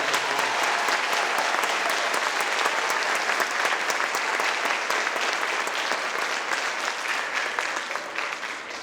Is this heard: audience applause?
yes